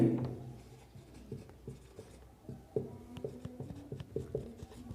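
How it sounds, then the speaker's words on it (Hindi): Pen writing on paper during a class 10 maths lesson, a close, quiet run of scratchy strokes and small taps in irregular bursts, with no talk over it. "इधर लिखेंगे हम नूरी की आयु"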